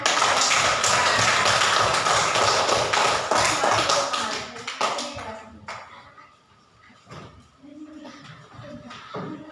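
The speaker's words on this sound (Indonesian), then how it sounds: "Berikan tepuk tangan" A classroom of students claps for a group presentation, a dense, loud burst of many hands for about five seconds that thins into scattered claps, shuffling and light movement.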